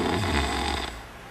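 A heavyset man in a bedroom shared by wrestling-team members snores with one loud, rasping breath that fades into a quieter exhale.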